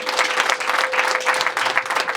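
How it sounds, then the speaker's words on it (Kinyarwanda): Wedding guests clapping together in a dense, lively burst of applause, fairly close and continuous, with a faint steady tone running underneath. "bagariye neza bano babyeyi, bakwiriye amashyi n'impundu"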